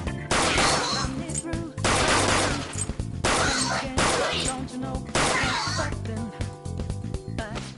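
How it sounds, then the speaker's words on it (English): Rapid gunfire from a gun in Persona 5 Royal, loud dense bursts of shots repeating in quick succession under game music and effects, with a voice briefly audible. "There are plenty of instances where rapid fire is going to be more useful than swinging your knife."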